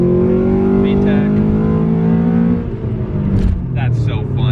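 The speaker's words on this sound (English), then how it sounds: "The car absolutely screams when you start to rev it out." Honda Civic Si EM1 engine revving toward its 8,200 rpm redline, a loud rising harmonic whine climbing steadily, then easing off as speech breaks in near the end.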